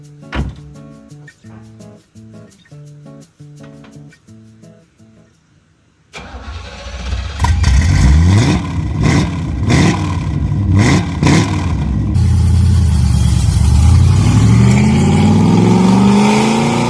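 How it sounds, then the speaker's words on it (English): A 1968 Corvette C3 Convertible cranks over after a stretch of quieter mechanical clatter, catches, and revs hard several times, then settles into a loud, steady rumble, close up with no talking. "Listen to the sound this Vette makes. This is a Corvette C3 Convertible from 1968"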